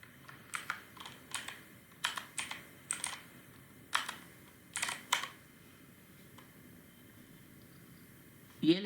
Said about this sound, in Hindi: यहाँ पे Ctrl+N करता हूँ, Ctrl+S करता हूँ और यहाँ पे मैं tut9.html लिख लेता हूँ।